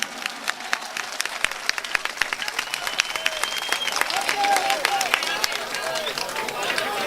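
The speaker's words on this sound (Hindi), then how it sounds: "अब तक की सबसे बड़ी ताली होनी चाहिए।" Applause from a mushaira audience swells steadily into dense, sustained clapping, with scattered louder claps and faint crowd murmur underneath.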